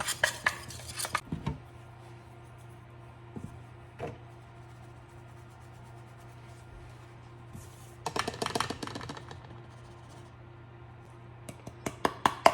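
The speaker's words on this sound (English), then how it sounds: "we're gonna use this tool next to whisk it up" A small tool whisks ground Jamaica Blue Mountain espresso coffee for a Breville Bambino Plus, giving quick metallic clinking and scraping bursts at the start, in the middle and at the end, separated by quiet stretches.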